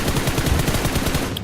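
Rapid burst of gunfire from a PUBG Mobile match, a quick string of sharp close shots at a steady fast rhythm throughout, loud and continuous with no talk over it.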